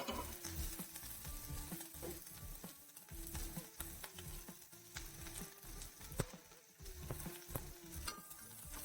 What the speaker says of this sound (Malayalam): ഒന്ന് വഴറ്റി വെക്കാം.